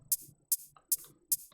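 A Vengeance sample-pack hi-hat for a dubstep track ticks four times in a steady, quick pulse, each hit short, bright and thin, at a modest level.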